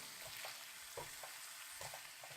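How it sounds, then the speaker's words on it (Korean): Meat stir-frying in a pan over medium-low heat, a steady crackling sizzle with soft periodic scraping bursts from stirring roughly every half second, close and alone with no talk. "볶고 있는 중이에요"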